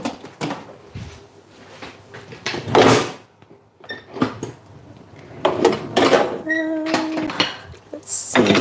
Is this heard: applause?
no